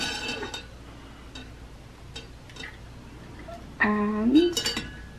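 A spoon stirs a glass of homemade lemonade, giving a few soft clinks, then a sharp ringing clink and a brief rattle near the end, with someone speaking softly early on.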